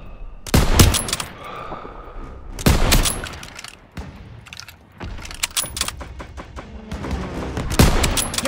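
Gunfire in Call of Duty: World War II during a street fight against troops on rooftops: loud bursts of rifle and machine-gun fire come in several heavy volleys, with rattling automatic fire and sharp individual shots between them.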